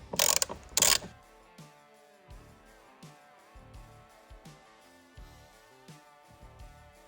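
Ratchet wrench loosening Torx T40 bolts on a Can-Am Canyon floorboard, two sharp louder bursts followed by a series of soft, evenly spaced clicks, close and alone.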